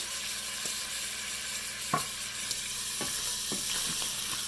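Garlic sizzles steadily in a frying pan, a close, even hiss with a few light clicks and taps of stirring, no voices over it.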